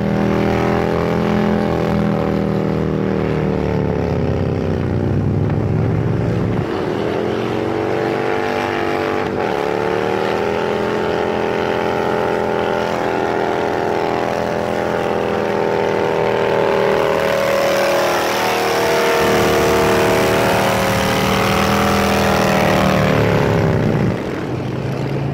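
A 131ci Harley-Davidson Breakout motorcycle with a 140-horsepower engine revs hard and accelerates through several gears, a loud continuous roar rising in pitch, dropping at each shift and climbing again, close and steady throughout.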